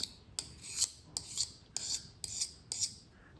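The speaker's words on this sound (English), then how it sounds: "what you have here is actually a diamond file." A knife blade is drawn over a small pocket diamond file in six quick, evenly spaced rasping strokes, close and crisp, each a short gritty scrape with no talking.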